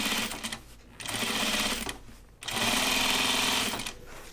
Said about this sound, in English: the side I'm stitching on, and I'm securing it that way